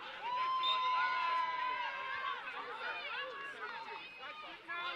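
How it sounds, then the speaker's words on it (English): Spectators at an England Hockey Premier Division match between Southgate and Holcombe men cheer behind the home team, a continuous crowd roar and chatter heard under prominent close commentary. "Crowd getting behind the home team."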